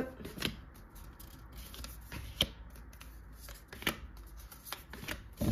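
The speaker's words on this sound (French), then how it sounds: "Alors, on va poser les cartes." Tarot cards are shuffled and laid down on a table, giving soft, close riffles, flicks and papery slaps in irregular bursts with no talking.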